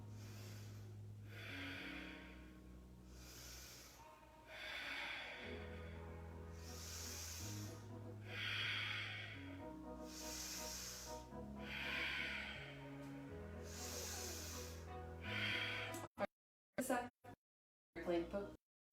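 Deep, slow breathing during a power yoga pose, several long rhythmic inhales and exhales close to the microphone over soft background music, cutting into silence near the end.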